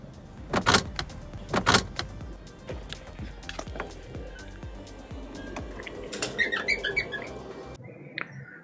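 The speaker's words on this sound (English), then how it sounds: "Okay, let's close the door." Clunks, latches and squeaks of the door and cargo hatches being closed on a Twin Otter in Microsoft Flight Simulator 2020, with two loud thumps early on, then smaller mechanical clicks and a short chime-like sequence near the end.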